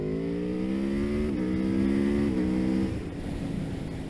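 An Aprilia Tuono motorcycle engine drones steadily while being ridden, its pitch rising slightly and then easing off as the throttle rolls back, loud and close with wind noise beneath.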